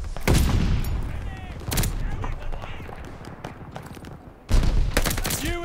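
Stun grenade and heavy gunfire in Call of Duty Vanguard multiplayer: loud bursts of shots around the start, near 2 seconds and again from about 4.5 seconds, with a steady rattle of battle between them and a voice calling out over it.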